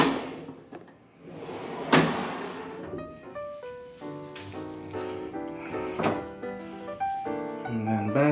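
Hotel room drawers and closet fittings in a king room at the Aria in Las Vegas, opened and shut in a string of close wooden thunks and slides. A sharp knock rises out of a faint background of room tone and scattered tones.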